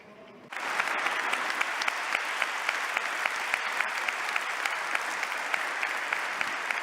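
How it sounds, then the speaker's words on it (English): An audience bursts into applause, dense sustained clapping starting suddenly and continuing evenly, fairly close and loud, with a few sharper individual claps standing out. "a big round of applause for our four guests"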